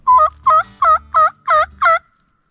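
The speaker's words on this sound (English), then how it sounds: "Little songbird made a noise." A bird in the woods gives six evenly spaced, loud, close gobble-like bursts in quick succession, closely resembling a turkey gobble, then stops.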